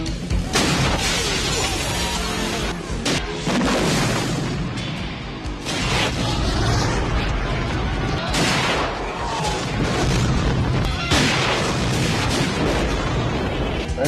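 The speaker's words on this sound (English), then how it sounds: "they blow a bunch of shit up" A loud, relentless barrage of explosions and crashing booms from the film Streets of Fire, overlapping with gunfire-like bursts in a dense, chaotic wall of action noise.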